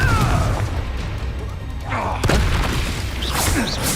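Confringo spell blasts in the Hogwarts Legacy video game land as deep booming explosions with crashing debris, one heavy hit in the middle and more bursts with whooshing effects following.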